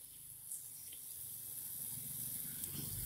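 A steady, faint hiss of water poured over a smouldering pile of rice husks, splashing continuously, with soft gurgling underneath and no voices.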